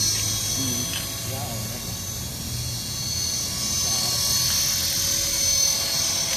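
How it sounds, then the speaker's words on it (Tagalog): A HK450GT Pro RC helicopter hovers during practice, its rotor and motor giving a steady, close droning whine throughout, with people talking over it. "Kaya practice mo hover lang lagi. Para makokontrol mo na helicopter."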